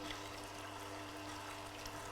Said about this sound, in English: You just have to hold it over as it extracts the juice.